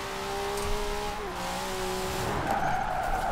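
Tires screech through a sustained drift in Forza Horizon 4, a grippy but loose car at upwards of 150, with a steady engine drone and tonal squeal that shifts pitch midway and roughens near the end, loud and continuous with no talk.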